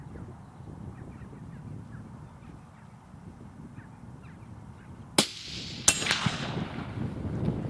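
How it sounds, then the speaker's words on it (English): Two sharp, loud rifle shots crack out less than a second apart near the end, fired outdoors from prone or off a vehicle hood. Before them, a steady outdoor ambience with light wind fills the quiet. "I'm just going to take a few more shots and just empty these last 5 rounds"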